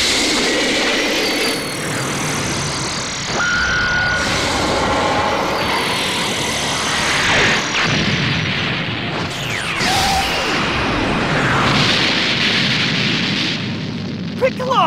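A loud, sustained roaring energy blast with sweeping whines and heavy rumbling, pushing on continuously as a beam cannon fires in Dragon Ball Xenoverse 2.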